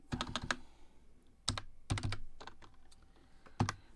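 Close, crisp clicks of computer keys being typed in quick bursts, separated by short pauses, with no voices.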